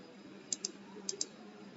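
Computer mouse clicking while working in Civil 3D software, two quick pairs of sharp, faint clicks in a quiet room with a low background hum.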